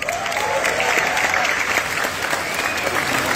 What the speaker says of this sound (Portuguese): com a calorosa salva de palmas da nossa plenária